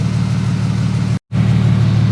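An Infiniti G37's engine runs at a steady idle, a close, even low hum that is briefly cut off for an instant mid-way before carrying on unchanged.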